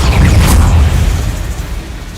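A single Expelliarmus spell blast in Hogwarts Legacy, a loud booming burst with a whooshing edge that rings out and fades over about two seconds.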